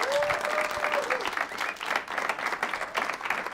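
An audience at a film summit panel breaks into a round of applause and cheering for an invited guest, with a brief whistle at the start and steady clapping throughout.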